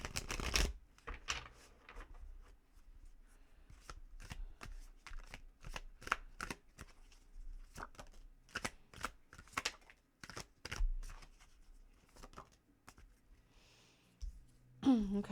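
Tarot cards are shuffled and drawn close up, with a long run of quick riffling, flicking and tapping sounds in a quiet room.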